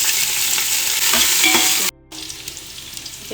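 Fresh coriander, mint and fenugreek leaves frying in a pan, a loud steady sizzle with faint stirring scrapes that cuts off abruptly, then a quieter, softer sizzle continues.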